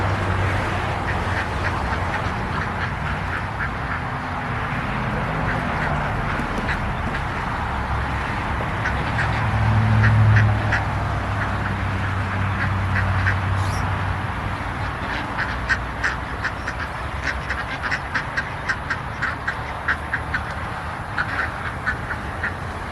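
A flock of ducks with ducklings mixed in quacks repeatedly in loose, overlapping bursts at moderate distance, a busy outdoor chorus that grows denser toward the end.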